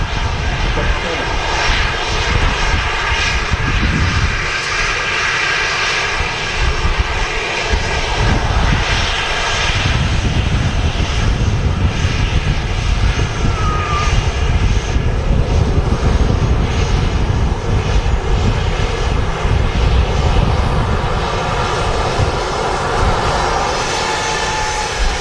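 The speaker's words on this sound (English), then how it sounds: "Kuwait A320 Neo on finals, nice." Kuwait Airways Airbus A320neo on final approach, its engine roar steady, loud and broadband throughout, with no breaks, heard at an airport with no one talking over it.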